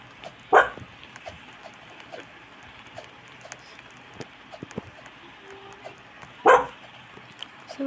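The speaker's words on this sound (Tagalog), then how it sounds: "yung aso namin nagbabark-bark" A dog barks twice, a short sharp bark near the start and another near the end, fairly close, with quiet household background and faint talk in between.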